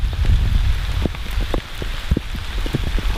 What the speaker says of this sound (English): it's raining quite a bit now, isn't it?